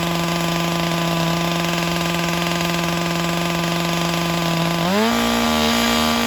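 A Stihl MS400 C-M chainsaw engine screams at a constant high rev, loud and close, then its pitch shifts abruptly near the end.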